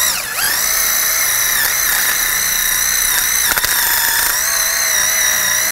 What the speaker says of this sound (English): Now I'm gonna clean the hub surface using a wire brush.